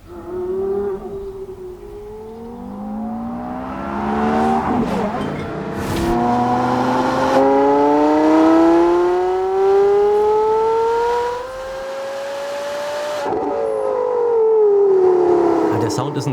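Analog hypercar engine accelerating while driving, with several rising revs climbing through the gears, loud and close under continuous talk.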